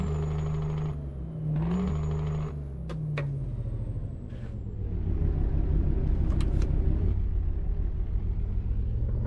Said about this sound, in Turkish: Umarım arabanın sesi beni bastırmaz.